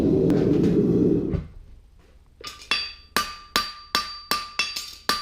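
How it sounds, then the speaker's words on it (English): Hammer blows forging a fullered straight-bar horseshoe on an anvil: after a brief roaring burst, about eight sharp ringing metallic strikes land in a steady rhythm, close and loud, with no talk. "keep turning it over when you're forging that up"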